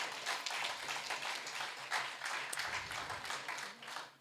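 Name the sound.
audience applause for a speaker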